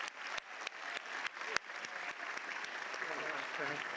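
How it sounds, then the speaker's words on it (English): Audience applause for graduates at a university convocation ceremony for conferring degrees, a steady wash of many hands clapping with sharper individual claps standing out, filling the whole stretch at moderate loudness. "please join me in one last round of applause for the graduates of 2026"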